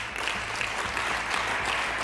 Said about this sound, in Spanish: Aplauden tímidamente desde la mesa.